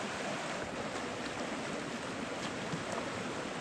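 Water rushes steadily in a broad, continuous wash from a river at a trail crossing on the Eagle Rock Loop, with no pauses or voices.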